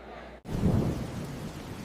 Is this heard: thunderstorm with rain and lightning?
yes